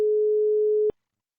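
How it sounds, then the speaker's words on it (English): A single steady electronic ringback tone on a desktop business phone system during a call transfer to another line, sounding continuously for almost a second before cutting off abruptly with a click, with no voices. "That will automatically put the customer on hold and will start ringing Kevin on line 2"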